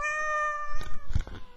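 A cat lets out a long, drawn-out meow, clear and close, and it ends among a few thumps and scuffling noises.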